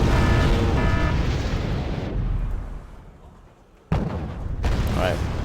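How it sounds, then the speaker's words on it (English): Heavy artillery fire and explosions in the strategy game Wargame: Red Dragon, a dense rumbling barrage that fades, then a sudden sharp blast, with a voice speaking over it. "Damn, artillery's already spotted us."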